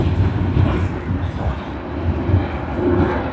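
Qantas QF26, an airliner from Tokyo Haneda, rumbles at Sydney Airport as a loud, close engine roar with pulsing low-end surges that rise and fall over a few seconds.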